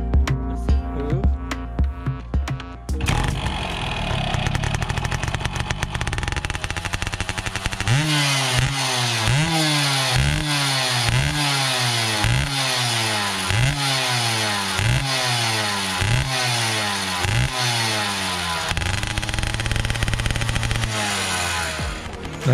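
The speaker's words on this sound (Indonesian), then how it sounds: "Nah, ini motornya, kita langsung dengar suaranya aja ya" A Yamaha F1ZR / Force 1 two-stroke underbone, built as a basic trail bike, is revved repeatedly and close up, its engine climbing and dropping in a steady series of sharp blips with clattering mechanical noise between them.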